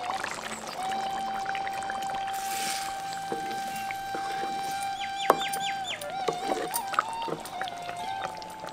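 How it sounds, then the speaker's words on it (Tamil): Gram flour slurry is poured into a simmering tamarind gravy with bitter gourd: a steady, soft liquid pour that runs throughout, with faint chirps and small clinks in the background. "ரெண்டு தேக்கரண்டி கடலை மாவோட கொஞ்சம் தண்ணியை சேர்த்து கரைச்சி அதை குழம்போட சேர்த்துக்குவோம்."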